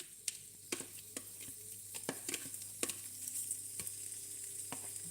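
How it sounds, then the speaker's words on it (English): Daikon and shallot frying in a pan on a stovetop, a steady sizzle close by, broken by sharp scraping stirs and clatters of the utensil against the pan. "I'm going to increase the heat a little and then I'm going to fry this."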